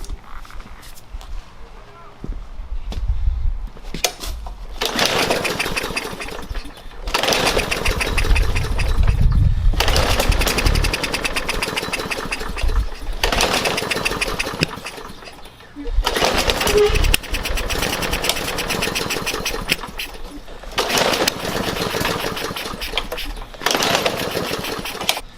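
A Briggs and Stratton lawn mower engine is primed and cranked, catching in repeated loud, rough runs that sputter and die between attempts, while someone talks in between the bursts.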